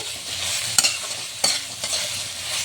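Eggplant sizzling in a pan as a spatula stirs it, with a steady hiss broken by a few sharp scraping clicks, close up.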